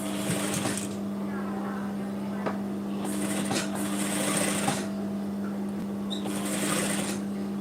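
A sewing machine runs a seam on a sleeveless round-neck blouse in three separate bursts of close whirring stitching, with talking in the quieter gaps between.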